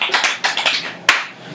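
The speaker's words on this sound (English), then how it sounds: "All those applause were for you, man." Scattered hand claps from a small group in a home apartment setting, a few separate bursts that build briefly and fade, with one sharp clap near the end.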